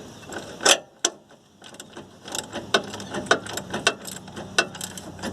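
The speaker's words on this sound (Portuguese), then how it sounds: "a gente coloca ela de novo e continua apertando. Ainda bem que a catraca ajuda" A ratchet wrench tightens a bolt on a Chevrolet Blazer/S10 drivetrain, giving rapid, uneven bursts of close metallic clicking with short pauses between strokes.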